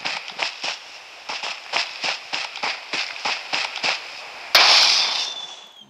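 Gunshots in the PUBG video game, a quick series of about a dozen sharp, evenly spaced cracks followed by a louder blast that trails off, close and clear with no talk.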